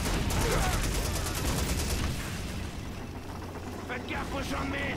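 Rapid gunfire crackles from a World War II battle in the PC shooter Call of Duty 2, a dense burst of shots over a rumbling battlefield that thins out midway, with a voice talking underneath.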